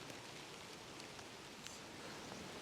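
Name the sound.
rain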